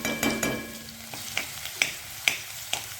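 Garlic dropped into hot oil already crackling with curry leaves and cumin, giving a steady sizzle with a few sharp pops and spatters spread through the stretch, no talking.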